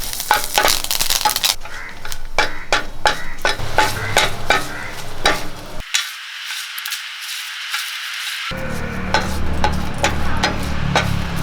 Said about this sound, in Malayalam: രണ്ട് കറിവേപ്പില ഇടാം നമുക്ക് ഇതൊന്ന് വറുത്തെടുക്കാം